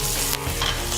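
Skin-side-down food sizzles loudly in a hot pan with garlic, thyme and a knob of butter, a dense steady frying hiss with stirring and spitting, no voices.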